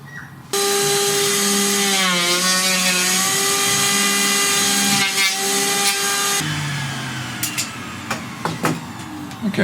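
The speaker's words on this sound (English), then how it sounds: "taking off the more rugged features with this electric hand planer" An electric hand planer roughs down a wood slab, starting abruptly with a loud, steady high-pitched whine and cutting roar that dips in pitch under load, then stops near the end, leaving quieter workshop clatter and ticks.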